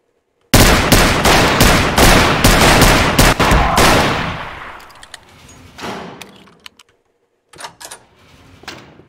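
Rapid bursts of gunfire fill a scene in the video game The Stalker 4, loud and dense at first, then thinning into scattered shots and clanks before falling quiet.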